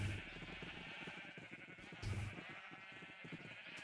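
Sheep bleating in the video game Minecraft, several short nasal bleats at the start and again around the two-second mark over a steady background hum.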